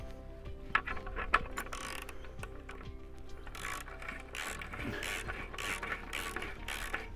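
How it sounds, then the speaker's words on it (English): A ratchet with a 15mm socket tightens a bolt while fixing a pole to a wall, giving a few quick clicking bursts close by over a steady background hum, with no talking. "nip this up with a 15mm socket and a wrench or a ratchet"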